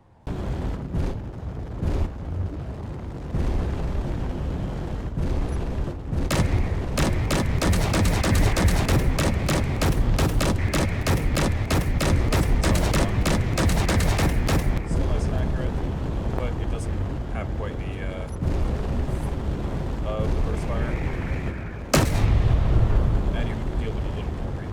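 Rapid gunfire salvo from Ruka and Kulak fighter-bomber weapons in a combat video game, a dense sustained burst of repeated shots lasting several seconds, with heavy rumbling explosions before and after, loud and close.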